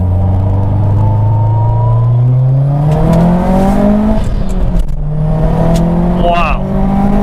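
Car accelerating hard through second gear, the engine tone climbing steadily, then dropping briefly at the shift before climbing again in third. The engine is loud and close, as heard from inside the cabin, with a few faint sounds near the end.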